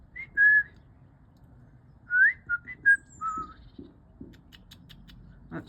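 A person whistling to call garden birds, a few short clear whistled notes, one brief burst, then a cluster of several rising and falling tones, close and alone over a quiet outdoor background.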